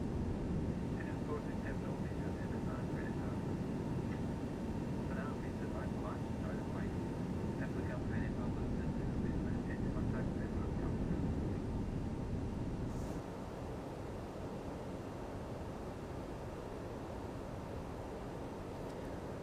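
KLM A320neo jet in flight in X-Plane, a steady broad engine roar heard from the cabin that holds for about thirteen seconds, then drops slightly quieter and continues evenly.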